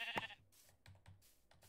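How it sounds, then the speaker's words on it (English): Sheep bleating in Minecraft, one short bleat near the start followed by quieter blocky game sounds and faint clicks, fairly soft overall. "Oh, there's another sheep right there."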